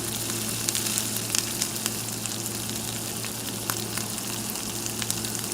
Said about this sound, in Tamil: கொஞ்சம் கொஞ்சமாக மீனை நம்ம வறுத்தெடுத்துப்போம்.